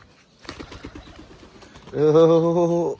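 Pigeons coo close by: a run of soft pulsing notes, then one long, loud, drawn-out coo.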